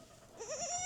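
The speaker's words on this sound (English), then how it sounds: "She's just a really, really good milking goat." A dairy goat standing on a milk stand gives one wavering bleat, fairly close but soft, starting after a brief quiet stretch and quivering in pitch until the end.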